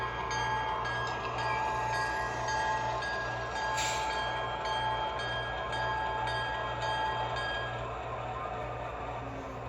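Model diesel locomotive with a Proto Sounds Canada sound pack idling steadily with a constant low engine drone and faint mechanical hum, unbroken throughout.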